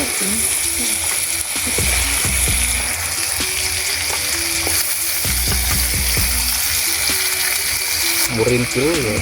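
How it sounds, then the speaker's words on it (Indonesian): Eel frying with spices while being stirred in a pan at a hut beside rice fields: a steady, loud sizzle with repeated scraping clicks from the stirring throughout. "Dan tidak lupa diaduk-aduk supaya bumbunya merata teman-teman."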